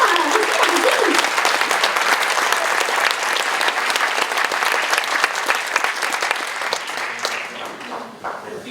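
A theatre audience bursts into applause, loud and dense clapping that builds and holds, with a voice briefly rising over it near the start before the clapping slowly tapers off.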